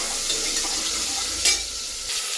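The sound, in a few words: frying sprouted field beans (avarekalu) in a pan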